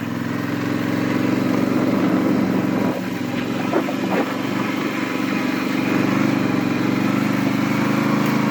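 A Polaris ATV with big tires runs in all-wheel drive across a wet field, its engine a steady close drone with a continuous buzzing hum and no speech.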